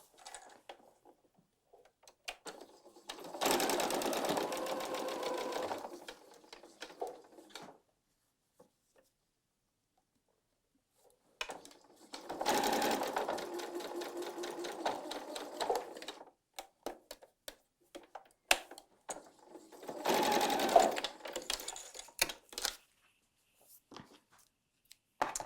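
Sewing machine stitching quilt block pieces placed right sides together, running in three separate bursts of several seconds each with quiet pauses between, close and clear with no talking.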